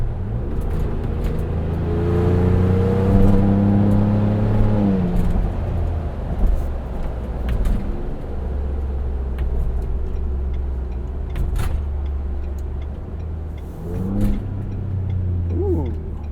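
A 2.7L V6 Ford Bronco fitted with an MRT axle-back exhaust drives on a slippery day, its engine droning and rising through revs with shifts, a deep steady rumble heard from inside the cabin along with faint ticking.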